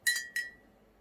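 A spoon stirring a hot whiskey drink in a glass gives two bright, ringing clinks in quick succession, close and clear, each fading out with a short tonal decay.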